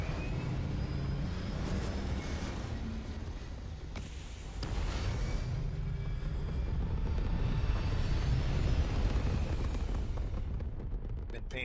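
A large spaceship lifts off in a sci-fi video game, a loud sustained roar and rumble of engines with heavy low-end thrust that swells midway and keeps building, with faint voice lines over it.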